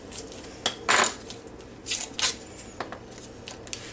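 A knife works through half sticks of butter on a kitchen surface, giving a few close, sharp clicks and scrapes in short irregular bursts.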